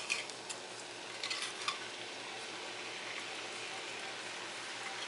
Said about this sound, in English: time to add our fillets to the pan